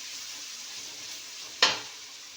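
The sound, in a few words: stirring rice bath in a pan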